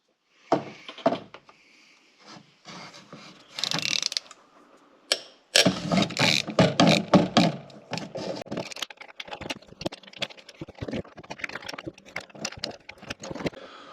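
A hand ratchet works on the E10 bolts holding the actuator of a BMW xDrive transfer case under an SUV. Bursts of rapid clicking come up close, with short pauses, then longer runs of steady ratcheting.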